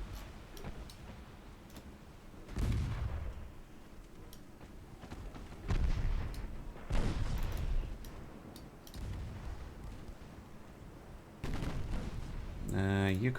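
Naval guns firing in a warship game, several heavy booms spaced seconds apart with rumbling tails, followed by a rapid ticking burst at the end.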